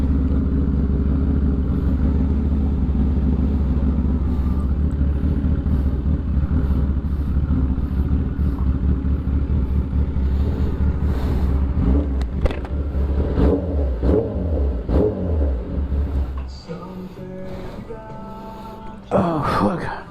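A Kawasaki ZX10R sport motorcycle engine running with a deep, bassy rumble, sustained and loud for most of the clip, then revving and cutting off near the end as voices talk briefly.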